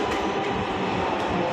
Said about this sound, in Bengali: মেট্রো চলে আসছে মনে হয়